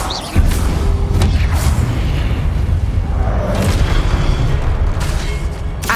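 In Hogwarts Legacy, a Confringo blasting spell erupts with a loud close boom that rolls into sustained rumbling, dense crackling blasts and whooshes continuing for several seconds.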